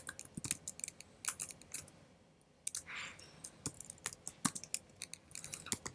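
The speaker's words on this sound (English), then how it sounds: "and I have to type here docker" Computer keyboard typing a Docker command, with irregular close key clicks in short clusters and a brief pause midway, quiet and without speech.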